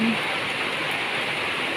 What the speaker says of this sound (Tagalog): medyo malalaki po yung patak ng ulan ngayon